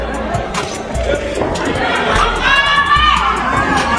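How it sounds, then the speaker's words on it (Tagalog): At a professional boxing match, a big crowd of fans shouts and cheers in bursts, with a dense babble of excited voices rising and falling throughout. "sigawan naman ang mga African fans pag tumama ang kanilang pambato"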